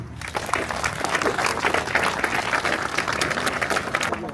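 A crowd at a November 11 remembrance ceremony in Bessan applauds the municipal services, a dense, steady clapping that holds at an even level for the whole stretch.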